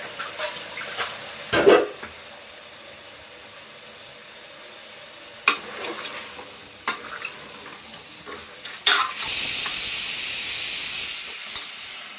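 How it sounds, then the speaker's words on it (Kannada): Cut potatoes and brinjal fry in a pan, giving a low hiss broken by a few clattering stirs, then a louder, steady steamy sizzle rises near the end. "ಒಂದು 2 ನಿಮಿಷ ಅದು ಫ್ರೈ ಆಗಲಿ"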